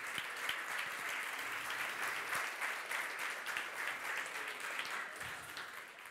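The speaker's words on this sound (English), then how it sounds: "a big round of applause to our jury" An audience applauds the jury at a demo day event, with continuous crowd clapping at moderate volume that stays even throughout and tapers slightly at the close.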